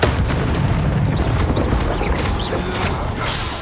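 The Bombarda spell going off in Hogwarts Legacy combat, a loud booming blast with crashing debris and whooshing magic that rolls on and slowly fades.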